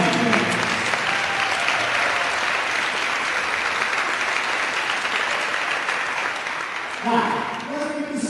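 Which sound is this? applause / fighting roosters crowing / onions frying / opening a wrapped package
applause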